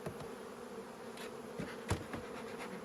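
A honey bee colony fills a full hive box, its dense, steady hum sustained throughout with a few brief louder buzzes as single bees pass close.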